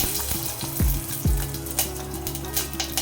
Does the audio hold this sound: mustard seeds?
yes